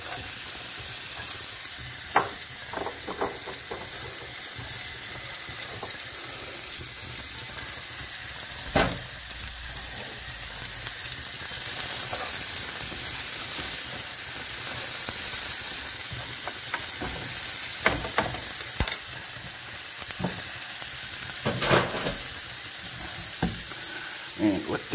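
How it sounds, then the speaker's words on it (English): Half a medium red onion fries in a pan, giving a steady close sizzle and hiss with scattered clinks and scrapes of stirring throughout. "We're going to chuck that straight in the pan."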